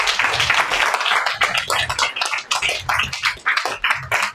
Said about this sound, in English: Please give another round of applause for Prabhu.